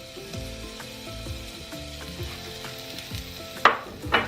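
Ginger and cumin seeds sputter in hot oil alongside fried mangodi lentil dumplings, a soft continuous sizzle with light stirring scrapes, ending in two sharper crackling pops.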